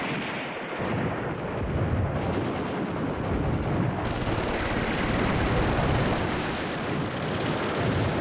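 Artillery fire from the Command Ops 2 wargame, set in mountain foothills at a pass, rumbles as a dense, continuous barrage of booms and crackling reports at steady loudness, with no voices.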